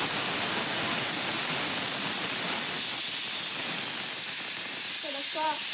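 Loud, unbroken hiss of steam rushing from a pressure cooker, close by, with a brief voice heard faintly underneath near the end.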